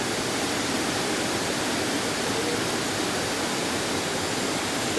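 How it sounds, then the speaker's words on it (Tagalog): Kilangin Falls on the Laguna side of Mount Banahaw pours down in a continuous dense hiss of falling water. The sound is loud, close and unbroken, with no other sounds. "ayun po yung waterfall sa taas"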